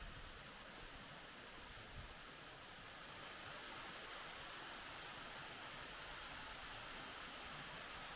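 Şak Şak Waterfall near Araç, Kastamonu, pours in winter amid snowy ground, giving a steady, even broadband rush of falling water that continues unbroken throughout, fairly distant and soft.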